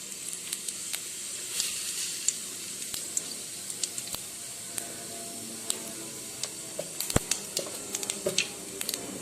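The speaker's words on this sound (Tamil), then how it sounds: "நல்லா பொறிஞ்சு வரட்டும் கடுகு வெந்தயம் சீரகம்லாம் நல்லா புரிஞ்சிருச்சு" Mustard seeds, cumin and fenugreek spluttering in hot oil while tempering for a drumstick kara kuzhambu: a steady soft sizzle with scattered sharp pops and crackles throughout, fairly quiet and close, with no talking.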